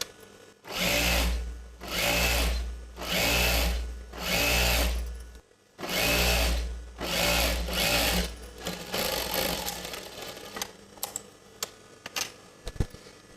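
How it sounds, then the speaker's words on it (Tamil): A sewing machine double-stitches a pant seam on a chudidar gathering pant, running in five or six loud, close bursts of rapid stitching separated by short pauses, then light handling clicks. "இப்போ இந்த மாதிரி ஸ்டிச் பண்ணிவிட்டு மேலே ஒரு கைடு அளவுக்கு தையல் போட்டுக்கிட்டே வரலாம்."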